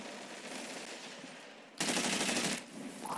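Rapid SMG gunfire from a video game bursts out in a loud, dense volley of about a second, then a shorter sharp burst follows after a brief lull, with no talk over it.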